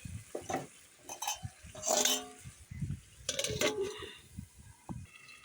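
Metal clinks and clatters of a lid handled and set onto a cooking pot for a chicken dish, a few distinct close knocks over a faint background sizzle.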